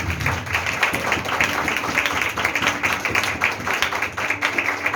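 A church congregation applauding in praise of the Lord during a sermon: steady, dense hand clapping from many people that fills the room without pause.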